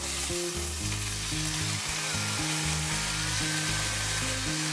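Finely chopped onions and potatoes frying in hot oil for poha, a continuous loud sizzle with stirring scrapes, alone without voices, and a steady low rhythmic hum running underneath.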